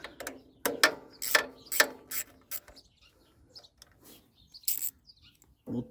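A ratchet tightening 8mm bolts on an Onan Emerald 1 generator, a series of sharp clicking strokes in a quick cluster, then quieter gaps and a few more clicks later.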